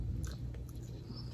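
Someone chewing bony jerk chicken up close, soft wet mastication with a few quick bites and crunches over a low murmur, no clear speech.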